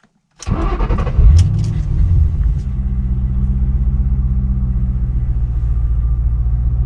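A Ford Mustang Bullitt V8 engine cranks and roars to life with a loud revving burst, then settles into a deep, steady, rumbling idle.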